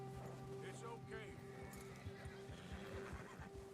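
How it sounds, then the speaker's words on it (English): A horse in the video game Red Dead Redemption whinnies as it gets spooked, over steady hoofbeats, with a voice speaking at the same time. "The horse got spooked."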